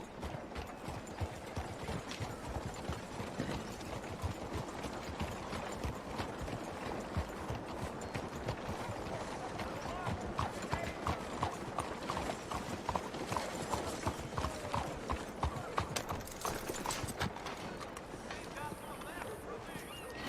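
Horse hooves clip-clopping steadily in Red Dead Redemption 2, a brisk continuous rhythmic trot heard close throughout, with faint background game ambience.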